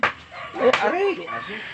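A dog barks a few times in Batangas, with sharp yelping calls close by and people talking over and around them.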